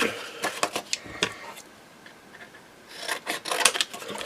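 Scissors cut and trim paper for a spring-themed journal, giving a run of close, crisp snipping and rasping strokes in two bursts with a quiet pause between, no talking.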